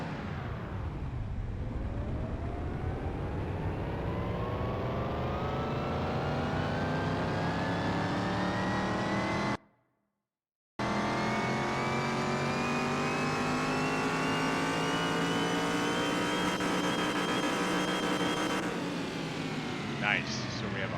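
Engine of a modified 1936 Fiat 500 revving on a dyno, a loud, steady high-rpm roar climbing smoothly in pitch over long pulls, broken by a brief silent gap before the run resumes.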